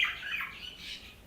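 Pet budgerigars kept indoors give a brief run of shrill, chattering squawks and chirps, fairly close but quiet, with no talk over them.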